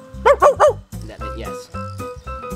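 A person imitates a dog with three quick, loud bark-like yelps while telling a story during a real-life Catan-style game, followed by softer voiced sounds.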